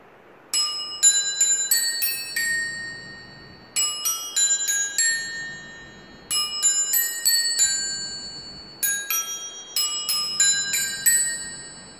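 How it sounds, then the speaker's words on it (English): A 14-bell handheld bell tree rings out in four separate runs of bright, sustained metallic tones, each run a quick cascade of bell strikes that decays into lingering overlapping chimes, close and clear with no talking. "This is the 14 bells handheld bell tree"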